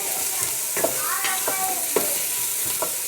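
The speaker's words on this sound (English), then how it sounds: "so I'm gonna add in those onions. That sound. The sizzly sound." Onions frying in a hot pan give a steady sizzle with a few sharper crackles and stirring scrapes, close and fairly loud with no talking.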